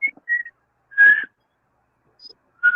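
A person attempting to whistle produces a few short, thin, breathy tones, separate bursts with silent gaps between them, fairly close and faint.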